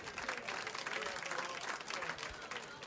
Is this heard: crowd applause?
yes